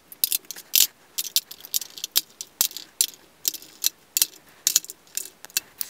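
Plastic concealer tubes dropped and shuffled into a small makeup bin, a string of light, close clicks and clattering taps at an irregular pace, quiet and without talk.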